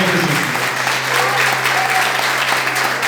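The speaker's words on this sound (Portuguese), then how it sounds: "Se você quer aplaudir, pode aplaudir de verdade, porque você está aplaudindo junto." Church congregation applauding at a first-anniversary service, a sustained, dense wash of clapping from many hands filling the room, loud and even from start to finish.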